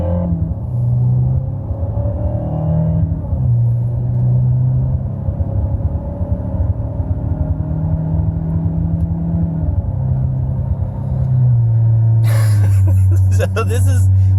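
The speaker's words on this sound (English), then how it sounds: "this is a Subaru Boxer sounding engine" Synthetic Subaru boxer engine sound played through a car sound app inside a Toyota Camry, a steady low burbling engine drone with slight rev changes and a brief burst of noise near the end.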